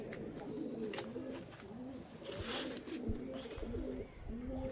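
Pigeons in a loft, including Malbai and Madras breeds, give repeated soft, rolling coos in a steady overlapping rhythm, with a few brief rustles and flutters around them.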